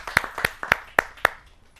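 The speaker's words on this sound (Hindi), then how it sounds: "जोरदार तालियों के साथ हम उनका स्वागत करें" A small group claps to welcome a poet at a Hindi poetry gathering, five or six sharp, evenly spaced claps close by that quickly fade out.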